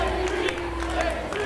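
A packed wrestling crowd at a Lewiston, Florida house show cheers and claps as the wrestler JB rallies them, a continuous mix of clapping and crowd noise under talk.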